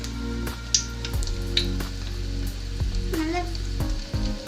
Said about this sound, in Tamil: இப்ப பொரிச்சு எடுத்துடலாம்.